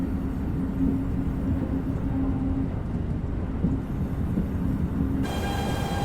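A BR 187 TRAXX 3 electric locomotive running in Train Simulator Classic, a steady low rumble with a faint tonal whine above it, continuous and loud, with a bright high tone entering near the end.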